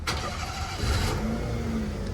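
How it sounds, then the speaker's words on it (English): A car engine cranks and catches, then settles into a steady idle hum close by. "Let's start the car."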